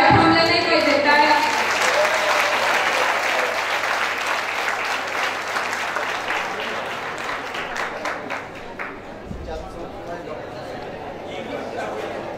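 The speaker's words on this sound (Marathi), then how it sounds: "टाळ्या थांबल्या नाही पाहिजे, टाळ्या." Sustained applause from the audience at a student association inauguration program, loud at first and thinning out gradually, with a voice talking over it as the clapping fades.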